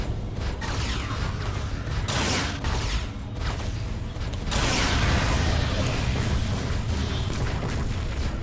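Space shot weapon firing in the War Robots game on PC, a dense, roaring blast of booming, grinding mechanical noise that holds steady for several seconds and swells louder partway through, with no talk over it.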